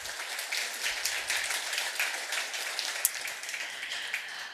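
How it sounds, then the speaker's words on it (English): A live studio audience breaks into applause for a guest on a talk show, a steady, dense wash of many hands clapping at close range with no one speaking over it. "let's give a round of applause"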